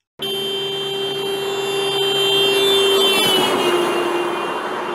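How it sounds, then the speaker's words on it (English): A car sounds its horn continuously as it drives past, the steady tone holding and then dropping in pitch as the vehicle goes by, loud and close. "You will hear the sound of the car as it passes you, just like this."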